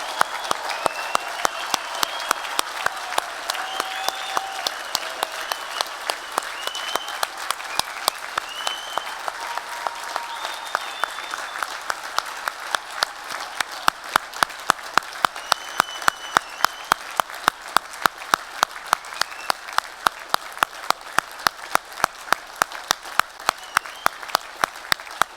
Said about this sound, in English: we're going to give our graduates a really hearty round of applause to say congratulations for all that you've achieved.